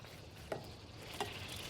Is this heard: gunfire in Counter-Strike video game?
no